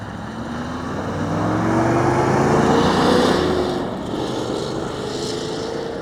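A 1973 Corvette Stingray drives past, its engine note rising as it approaches, peaking in the middle and fading away as it leaves.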